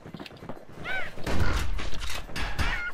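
Gunfire in the action video game Bastion, a run of sharp synthetic shots and thuds mixed with game effects and music, moderately loud, with a voice briefly heard.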